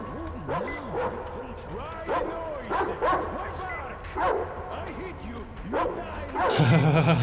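Dogs in the video game Metro Exodus bark, yip and whimper repeatedly throughout, the arching cries recurring every second or so over a steady game background, with a louder burst near the end.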